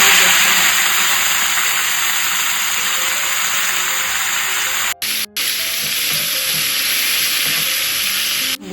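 Boiled cluster beans sizzling and frying in a pan for a garlic chili dish, a steady broadband hiss with stirring noises and two brief cutouts near the end, no talking.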